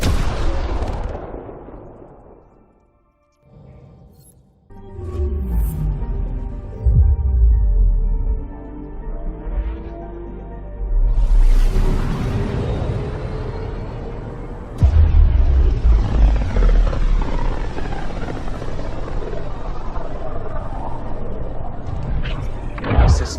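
The Tempest starship departs in Mass Effect: Andromeda, a loud sustained engine roar that swells and surges in waves with deep rumbling booms, after a brief quiet dip near the start.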